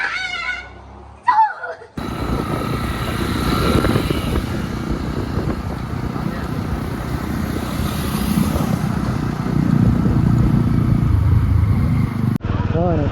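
A group of four or five motorcycles idles and revs nearby in a steady, loud engine roar that lasts most of the stretch. People talk over the noise, and it cuts off sharply near the end.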